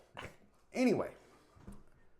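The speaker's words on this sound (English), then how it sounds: "It's a dog, I promise. It's a dog. It's a German Shepherd." A German Shepherd lets out a few short whimpering yelps and barks, one louder cry in the middle between quieter ones, fairly close, with a voice in the background.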